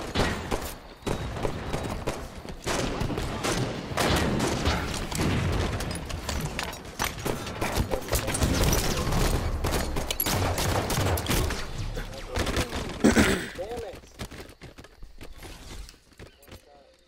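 Enemy team gunfire in the video game Halo 5, dense overlapping volleys of shots and blasts that continue steadily and loudly, with players talking over the barrage.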